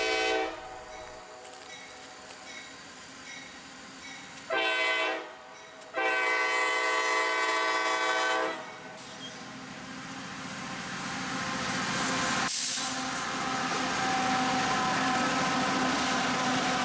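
CSX mixed freight train Q647, running from Chicago into a siding in Georgia, passes with loud, repeated horn blasts over a steady rumble of rolling cars, with rain in the background.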